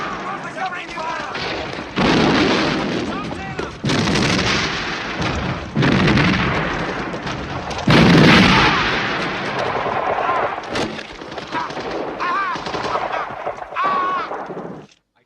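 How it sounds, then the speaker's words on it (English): Heavy World War II battlefield gunfire and artillery at Arnhem roar continuously in loud overlapping blasts and rattling bursts, with shouted voices buried in the din. "We're covering fire!"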